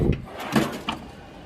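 A workshop drawer slides and knocks in a few short wooden bumps and scrapes, close by, with no talking.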